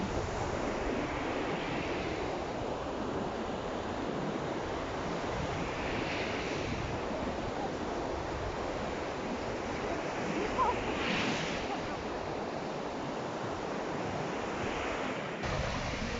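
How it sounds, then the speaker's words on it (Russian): Steady surf rolling onto Kadınlar Denizi beach in Kuşadası, Turkey, waves breaking and washing up the sand with a constant roar, wind noise blowing across the microphone. "Волны аж прям на берег, на песок заходят."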